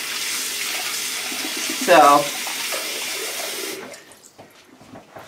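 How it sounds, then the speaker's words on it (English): Water runs steadily from a tap for several seconds, a broad hiss with a brief louder splash near the middle, while a person speaks over it before it stops. "You're gonna hear running water because I'm hot right now."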